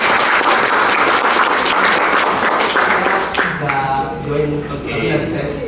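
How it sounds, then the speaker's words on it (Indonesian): Loud, dense audience applause fills the room at a business seminar, then fades as a voice begins speaking over the last claps. "Tepuk tangan buat Pak Jimmy."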